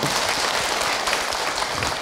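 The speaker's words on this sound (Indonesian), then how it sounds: "tepuk tangan untuk Ustadz Uncep Ibu ya." Steady, dense applause from a crowd at a religious talk fills the whole moment, many hands clapping at once with no break.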